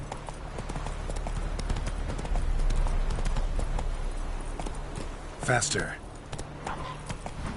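Roach, Geralt's horse in The Witcher 3, gallops with quick, steady hoofbeats close by under a broad rumble. Someone speaks briefly over the hooves, and a short vocal sound rises near the end.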